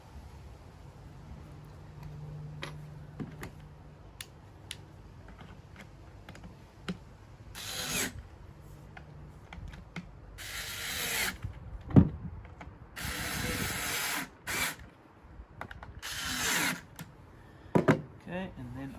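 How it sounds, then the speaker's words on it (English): A power tool drives bolts into a magnetic fender plate in short whirring bursts, several loud buzzy runs spaced between quieter clicks and ratcheting handling noises, with a voice talking at times in between. "I like to seat them with the Allen key first before I use the power tool"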